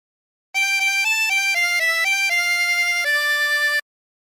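A 20-hole tremolo harmonica plays the La Cucaracha phrase as a run of sustained, wavering reedy notes, stepping up and down in pitch before ending on a longer held tone, clear and close with no talking.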